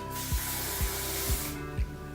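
A steady hiss of aerosol hairspray sprayed onto hair runs through, punctuated by four evenly spaced soft thumps.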